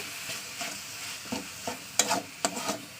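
Milk curds (chhana), cooked down dry and crumbly, being stirred in a pan: a few scraping strokes and soft clicks of the spatula, close by and fairly quiet, with no talking.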